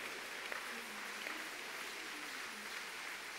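A church congregation at an RCCG Holy Communion service applauds: a steady, evenly sustained roar of many hands clapping fills the whole stretch without pause, with no clear speech.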